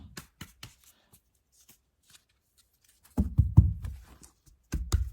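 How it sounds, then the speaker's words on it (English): A deck of cards is shuffled by hand up close in quick, crisp bursts of riffling and flicking. The bursts are separated by near-silent pauses, and no voices are heard. "one more good shuffle"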